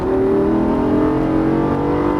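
A Lamborghini Gallardo with a 530 hp engine accelerating on a race track, a loud, steady engine roar held close and continuous from start to finish without talk.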